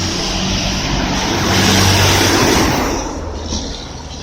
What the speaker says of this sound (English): These buses normally make a lot of noise going past me.